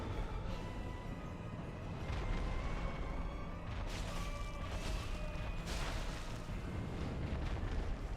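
Explosions from an enemy in the video game Dark Souls, heavy rumbling booms and bursts that swell and recur over a continuous loud roar of game sound, with no talk.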